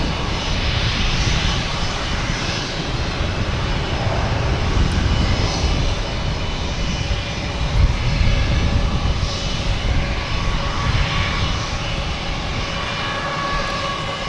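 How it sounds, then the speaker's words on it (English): A JetBlue Airbus A320, an 18-year-old jet arriving from San Juan, landing at Boston Logan Airport, heard as a loud, steady engine roar that holds throughout with no talking. "Next to arrive is a JetBlue and A320 coming in from San Juan"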